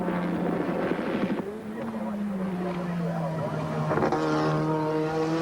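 A 1988 touring car engine screams around Mount Panorama at Bathurst in a race broadcast, its pitch sliding as the car shifts and accelerates. The engine sound is steady and prominent under continuous commentary.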